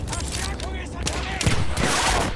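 Gunfire crackles through a chaotic Battlefield 1 firefight, dense overlapping shots and bursts with loud close impacts, while a voice talks over the action.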